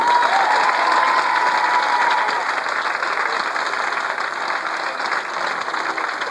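An audience at a cabaret show applauds continuously, a dense wash of clapping that holds steady and slowly tapers off slightly, with no talk over it.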